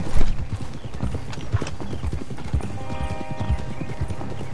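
Horse hooves clip-clop steadily as a wagon is pulled along in the Western video game Red Dead Redemption 2, a loud close rhythmic trot with a brief whinny and faint voices in the background.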